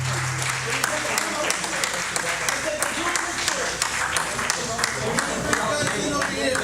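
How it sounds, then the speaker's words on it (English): Sustained applause from an audience at a senior center volunteer recognition event, dense clapping filling the whole stretch at steady loudness. "let's give a big round of applause to these beautiful people up here"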